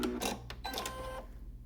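Sewing machine stitching a jacket outer shell, a short close run of mechanical whirring with a brief pause partway through.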